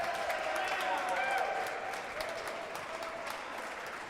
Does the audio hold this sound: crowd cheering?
yes